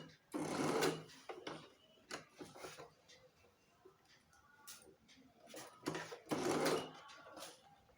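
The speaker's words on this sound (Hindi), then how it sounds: "बस थोड़ा सा ये फोल्ड हो जाए अंदर की तरफ और हम इसे सिल देंगे" A sewing machine stitches a baby frock in short bursts of rapid mechanical clatter, two longer runs and a few quick taps between quiet pauses, close and fairly soft.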